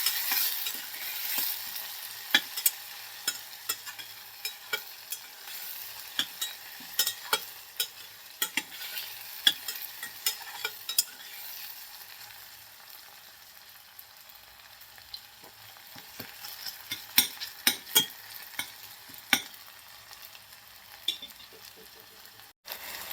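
Onion and tomato fry in a pan, giving a quiet, continuous sizzle broken by frequent sharp clinks and scrapes from stirring, with no talking.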